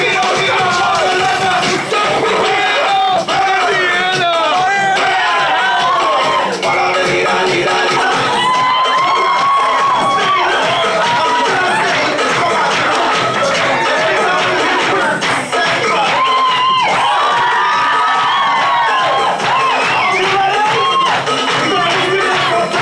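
A stadium crowd of some 50,000 fans roars and cheers at an NFL Europe American football game in Frankfurt, with loud, dense, sustained shouting and whooping throughout and rising swells of excitement.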